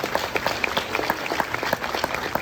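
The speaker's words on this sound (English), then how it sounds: "Give him a round of applause anyway." Audience at a Hispanic Heritage luncheon applauding a council member, steady dense clapping from a room of people, moderately close and continuous throughout.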